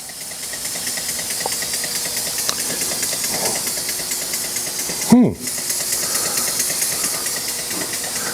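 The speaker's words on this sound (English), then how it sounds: "Thumper engine." A small Thumper model engine runs steadily with a continuous hissy, rattling drone, close and fairly loud, broken by one brief sharp sweep midway before settling back into the same even running.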